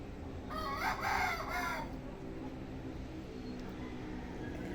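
Rooster at a gamecock farm crowing once, fairly close and loud, with a second rooster faintly answering in the distance over steady outdoor background noise.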